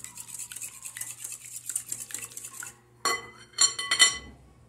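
Cornmeal batter for a pan-cooked cornmeal cake is stirred in a bowl with a utensil, giving a steady scraping, swishing rhythm that breaks into sharper clinks and scrapes against the bowl near the end, close by with no speech.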